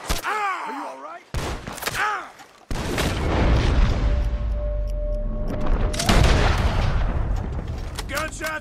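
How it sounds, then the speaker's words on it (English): Loud bursts of gunfire and booming blasts from Red Dead Redemption 2 fill the clip, with a shout and brief voices at the start. "Gunshots are coming from that."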